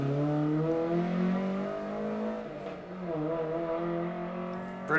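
Several Ford Escort race cars in the 2-litre 1980 class at a historic sprint at Leyburn, their engines droning loud and close, rising and falling as they rev and accelerate, with brief louder bursts near the end.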